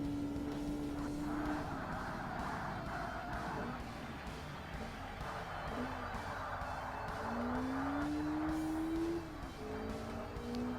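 Lotus Exige race car in Forza Motorsport, its engine droning steadily at near range, pitch rising and dipping through gear changes and corners, with faint tyre squeal and no talking.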